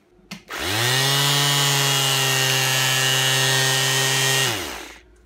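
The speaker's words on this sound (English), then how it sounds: "It's a 180 watt sander." A Performance Power 180-watt electric sander with a switch fault that sticks on whirs up to a steady loud, high-pitched motor whine, holds for about four seconds, then winds down, close and alone after a brief click.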